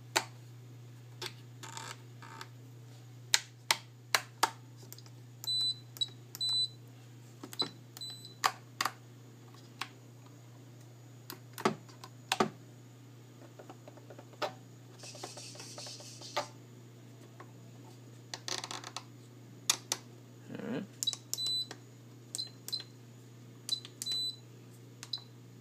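Switches on a JR X9503H radio transmitter are flicked one after another, giving sharp clicks and short high electronic beeps spaced irregularly over a low steady hum in a quiet room.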